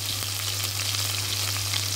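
Mustard seeds, curry leaves, garlic, green chili and ginger fry in hot oil for an eggplant sambar, a close, continuous sizzle scattered with small pops.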